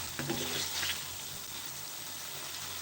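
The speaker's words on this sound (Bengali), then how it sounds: "আপনারা মাছটা কিছুক্ষণ কষিয়ে নিলে মাছটা খেতে অনেক টেস্টি হয়" Shing catfish sizzles steadily in a hot pan as it fries, a constant close crackle with a few stirring scrapes near the start, no talking.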